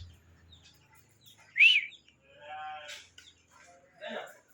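Birds call at an outdoor bird market, with one sharp, loud chirp standing out against a quiet background, followed by scattered softer calls and brief squawks.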